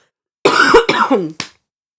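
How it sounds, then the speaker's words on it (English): A person coughs two or three times in quick succession, close and fairly loud, followed by a short throat sound, then silence. "You keep coughing."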